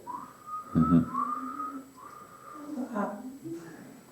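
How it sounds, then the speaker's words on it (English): A person whistles a short wavering tune, a few notes with brief pauses, close by and clear. "I hope the cameras have picked the whistle up."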